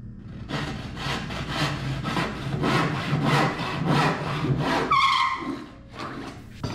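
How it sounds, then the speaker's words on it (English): Hand saw cutting through a warped wooden board with both crook and bow, making about eight close, rhythmic back-and-forth rasping strokes, then a brief squeak and a final scrape. "I flip the board and finish the cut from the other side"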